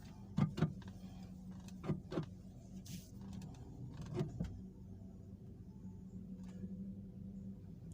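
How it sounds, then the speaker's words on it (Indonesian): A Toyota Alphard's steering wheel is turned to full lock right and then left with the steering yoke bolt loosened, giving a low motor-like hum with several sharp clunks and creaks nearby, quiet overall and without talk. "selanjutnya kita putar setir ke kanan mentok. Setelah itu ke kiri juga mentok."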